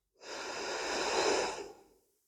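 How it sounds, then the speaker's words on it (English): One long, deep exhale of breath during a calm yoga session, heard close and soft, swelling gradually and then fading away into silence. "and breathing out."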